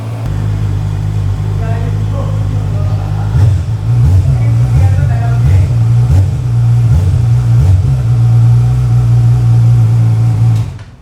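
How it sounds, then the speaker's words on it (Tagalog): Loud, close ZXMOTO 500RR inline-four motorcycle engine idling with a deep hum, then a series of throttle blips rising and falling before settling back to a steady drone. "Yan yung tunog niya, guys. Kasi inline 4 siya, kaya ganyan tunog."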